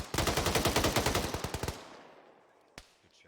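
A rapid burst of automatic gunfire rips out during a military field training exercise, about fifteen close, loud shots in a steady rhythm, then trailing echo and one isolated later shot.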